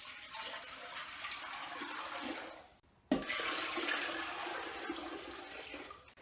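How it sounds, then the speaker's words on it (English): Water pouring into a cooking pot for the dill pickled yellow bean brine. A close, steady rushing stream runs, cuts off briefly, then resumes just as strongly. "We're gonna put in our water."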